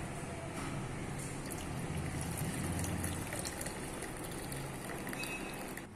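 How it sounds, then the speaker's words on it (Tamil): An immunity-boosting health drink is poured through a strainer in a village kitchen, giving a soft, continuous trickle and splash of liquid that lasts several seconds. "நம்ம இத வடிகட்டி எடுத்துக்கலாம்."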